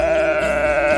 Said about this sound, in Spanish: A las ovejas no les gusta estar solas.